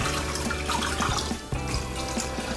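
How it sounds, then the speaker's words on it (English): Water runs steadily into a pressure cooker holding ribs, a continuous close splashing and gushing stream with small bubbling pulses throughout. "And now we're gonna add some water."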